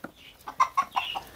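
Chickens and a rooster cluck close by: a few short, sharp clucks come in a quick, uneven run with quiet gaps between them.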